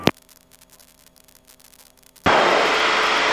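A light aircraft roars into a takeoff run on runway 11R, the loud, steady broadband engine and wind noise bursting in abruptly after a near-silent radio pause.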